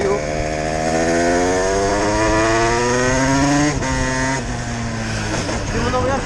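A small moped engine with a worn, tiring clutch revs loudly and close, its buzzing pitch rising and falling in sustained sweeps before dropping and climbing again, with a voice faintly present.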